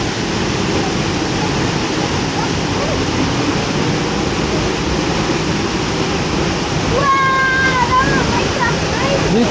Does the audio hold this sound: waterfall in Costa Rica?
yes